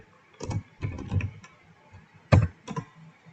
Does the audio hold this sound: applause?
no